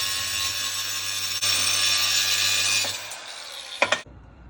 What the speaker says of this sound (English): I'm going to have to finish with the hand grinder right here